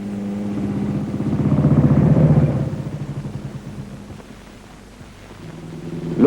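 A motorcycle engine fired by a swinging kick on the kickstarter rumbles into life, swelling to a throaty run before settling back, then rising again near the end.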